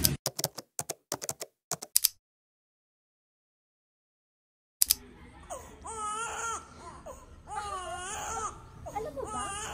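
An infant cries in wavering, rising and falling wails after a stretch of silence, preceded by a burst of sharp clicks; nearby and fairly quiet.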